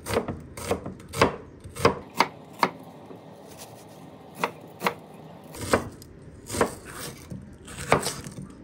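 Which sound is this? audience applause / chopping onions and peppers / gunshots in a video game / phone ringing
chopping onions and peppers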